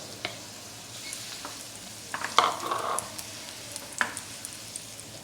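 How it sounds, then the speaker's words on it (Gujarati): Dates frying in ghee in a pan as they are stirred, with a soft, steady sizzle and a few light scraping and clinking touches from the spoon against the pan, fairly faint and without talk. "ખજૂરને આપણે ઘી સાથે સારી રીતે શેકી લેવાની છે."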